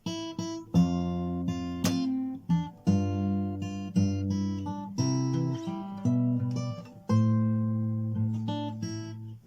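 Fingerpicked guitar playing only the bass notes of a song's chorus, single low plucked notes that ring and decay one after another at a slow, steady pace, close and clear with no voice.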